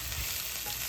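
Mushrooms for pâté sizzle and fry in a hot pan as they are stirred, a short steady crackle with soft scraping, close and fairly quiet.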